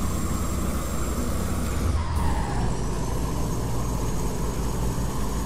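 Volvo truck hauling a gasoline tanker in Euro Truck Simulator 2, a steady loud engine and road drone running throughout with a brief hiss midway, no talk.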